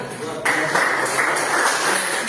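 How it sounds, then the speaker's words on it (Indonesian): A classroom of students bursts into steady, dense applause that continues evenly for about two seconds after a short lead-in. "Ya, tepuk tangan."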